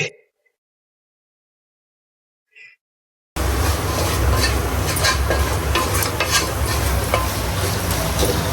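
Masala spices being stirred into a frying meat curry, a loud continuous sizzle with scraping stir strokes that bursts in after a near-silent start with a couple of faint clinks.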